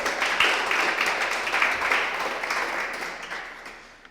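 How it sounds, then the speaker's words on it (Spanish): Church congregation applauding during a home church service, a dense round of clapping that starts strong and gradually tapers off over a few seconds. "Dale un aplauso a Dios si tú lo crees."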